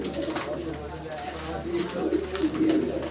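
Fancy pigeons coo repeatedly at a pigeon farm, soft throaty calls close by, with someone talking over them.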